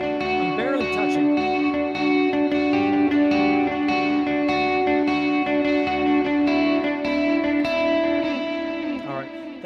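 Palm-muted electric guitar with a delay effect, notes repeating and ringing with a slightly muted attack, steady and moderately loud throughout.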